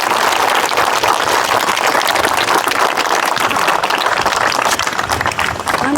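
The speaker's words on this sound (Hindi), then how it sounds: "चलिए जोरदार ताली बजनी चाहिए इनके लिए।" Sustained, loud applause from the audience at a talent award ceremony held by a youth fitness group in Barh, Bihar, steady throughout and dense with claps.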